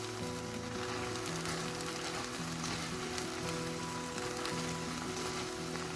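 Trader Joe's fettuccine with mushrooms frying in a pan, giving a dense, constant sizzle with crackling, close and steady throughout with no talking.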